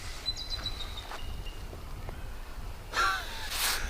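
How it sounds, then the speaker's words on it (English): Outdoors, a large bird calls in a few short cries, fairly faint and distant at first, followed by a louder, harsher burst near the end against a quiet background. "That sounded like a big bird."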